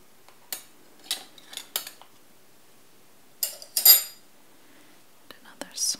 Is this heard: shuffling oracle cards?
no